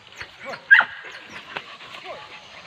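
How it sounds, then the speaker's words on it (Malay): Hunting dogs yip and bark in short bursts during a wild boar hunt in a forest, mixed under several people talking nearby. "Anjing."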